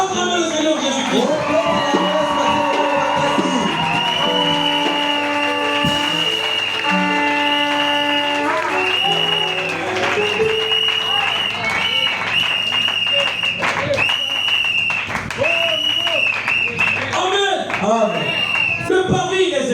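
A church congregation applauds and cheers over loud, continuous music, with clapping and voices blending into a dense, steady crowd roar.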